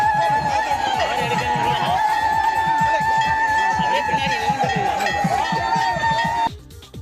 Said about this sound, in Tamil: பக்தர்கள் ஆரவாரம் செய்தனர்.